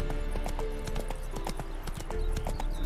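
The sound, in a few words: Roach the horse's hoofbeats, from The Witcher 3 video game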